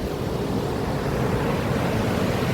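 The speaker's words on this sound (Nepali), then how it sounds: "यो खोला चाहिँ खतरा छ" A river in North Sikkim, dangerously swollen, rushes in a continuous low roar, steady and close, with no other sounds standing out.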